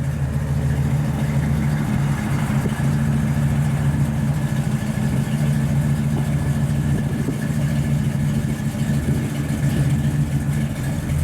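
A 1971 Chevrolet Custom 20 4x4 pickup idles steadily, its exhaust giving a smooth, even, moderately loud low rumble that holds throughout with no revving and no voices.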